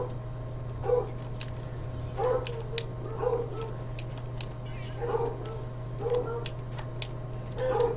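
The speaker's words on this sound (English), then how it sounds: "I can hear my dogs." Several dogs barking and whimpering at a distance in short bursts roughly every second, under a steady electronic hum and faint clicks during a speedrun of the game Lucky's Tale.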